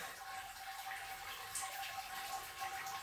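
Wort trickles and gurgles softly through a mixed-grain bed as it sparges during a dark lager brew day, a faint, steady watery wash with no voices.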